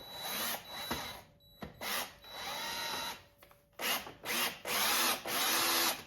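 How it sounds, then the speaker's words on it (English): A power drill whines in repeated bursts, starting and stopping as it drives a small screw into a wooden workbench, loud and close. "You can see I am gonna drill right into my workbench."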